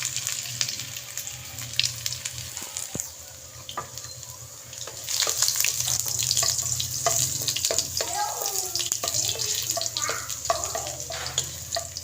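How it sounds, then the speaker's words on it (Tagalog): Ginger sizzles and fries in hot oil, a steady crackling hiss for the whole span with occasional clinks and stirring noises, the sizzle swelling louder about halfway through, while quail marinated for crispy adobo waits to go in. "nagpainit na tayo ng mantika, magigisa na tayo."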